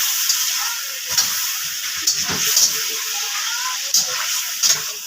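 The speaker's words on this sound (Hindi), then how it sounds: "लहसुन अदरक ऐड कर दिया है इसमें" Garlic ginger paste sizzles loudly in hot oil in a pan, a steady bright hiss with short crackling bursts throughout.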